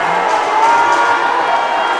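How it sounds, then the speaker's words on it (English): A high-school basketball crowd murmurs and calls out restlessly in a gym during a stoppage in play, a dense continuous hubbub of many voices with a few louder shouts rising above it. "crowd goes restless here"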